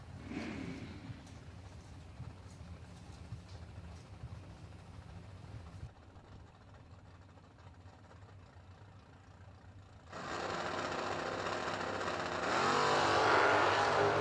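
A 1969 Camaro and a 1968 Camaro drag racing, with a steady engine roar that drops back briefly before swelling into a louder, harsher revving rush near the end, and no commentary.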